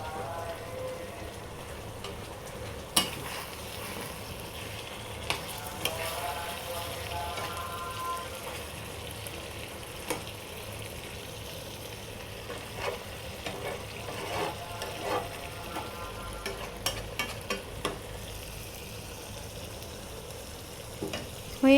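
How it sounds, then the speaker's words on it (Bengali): Hilsa fish frying in a pan with mustard, onion, turmeric and chili gives a steady low sizzle, with scattered sharp knocks and scrapes as the fish is flipped, and a faint voice briefly in the background. "মাছটা একটু উল্টিয়ে পাল্টে দিচ্ছি আমি।"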